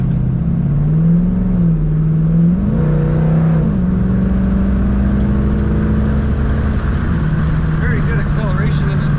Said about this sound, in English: Very good acceleration in this car.